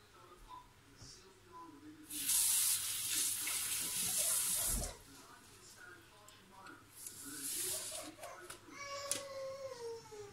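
Water is poured into a container to cover pork fork ribs being prepared for barbecue, making a loud splashing pour of about three seconds, with quieter rustling and handling sounds after it.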